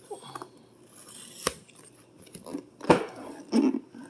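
Sharp snips and crunchy cuts into the packaging of a car audio amplifier box, a SKAR Audio RP-800D.1, with three distinct close cutting sounds spaced out over a few seconds in a quiet room.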